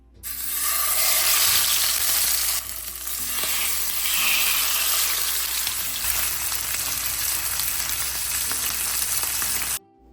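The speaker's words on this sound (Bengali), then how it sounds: "মাছগুলোকে এক সাইডে ভাজতে বসিয়ে দিয়েছি" Small fish pieces frying in oil in a pan, with a loud, continuous close-up sizzle that holds steady for about ten seconds before cutting off abruptly. No voices are heard.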